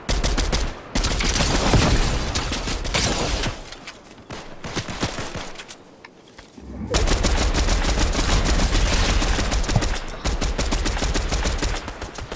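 Rapid bursts of automatic gunfire in a video game endgame firefight between teams, loud and sustained with a brief lull midway before heavy shooting resumes, faint voices beneath.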